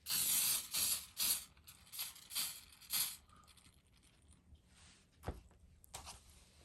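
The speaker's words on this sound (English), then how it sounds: "we'll use some firm holding hairspray to hold the shape of his mustache and his beard" Firm-hold hairspray from an aerosol can misted over a handmade bee gnome's mustache and beard in several short, close hisses, then quieter handling noises.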